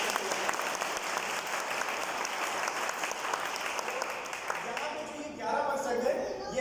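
A seated audience at a business presentation bursts into loud, sustained applause, many hands clapping together for several seconds before it thins out at the end.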